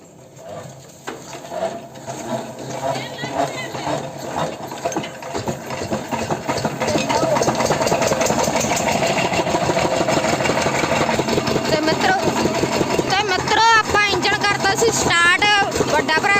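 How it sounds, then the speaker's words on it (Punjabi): An engine cranks and catches, then settles into a loud, steady rhythmic chugging idle that continues to the end; a voice is faintly mixed in. "ਆਪਾਂ ਇੰਜਨ ਸਟਾਰਟ ਚਲੋ ਕਰਦਾ"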